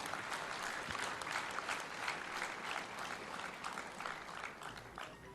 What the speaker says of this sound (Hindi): तालियां इतनी जोर से होनी चाहिए कि पुष्प की जो कलिका है वो स्वयं खिल जाए